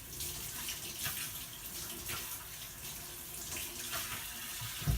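Water runs steadily from a tap close by over scallions being rinsed, splashing into a sink with a constant hiss and no voices.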